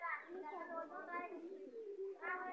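A red-necked pigeon coos in repeated soft, throaty phrases at close range, with a brief pause midway and no clear talk.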